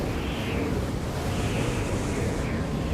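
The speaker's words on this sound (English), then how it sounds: "Waves, 6, maybe 7 meters." Heavy sea waves, six to seven metres high, batter a stranded cargo ship as a cyclone approaches; a continuous loud roar of surf and wind fills the whole stretch without a break.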